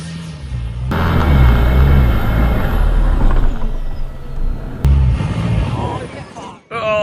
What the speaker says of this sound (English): Low range third gear up the steepest sand dune that I've ever been on